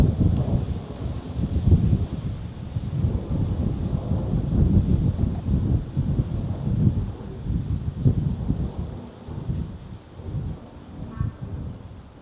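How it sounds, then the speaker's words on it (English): Gusty outdoor wind buffeting the microphone in low rumbling surges that rise and fall throughout, with no other clear sounds. "The wind is blowing."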